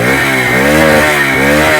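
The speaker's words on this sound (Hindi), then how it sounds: "तो इस गियर में बाइक चल रही है" A Bajaj Freedom 125 CNG motorcycle engine runs steadily in gear, loud and close, with a continuous buzzing drone that rises and falls slightly in small waves of revs.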